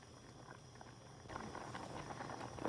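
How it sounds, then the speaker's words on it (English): Potatoes boiling in a pot of water, a soft continuous bubbling and hiss that grows busier and louder partway through as the water comes to a full boil. "Okay, so definitely coming up to a boil."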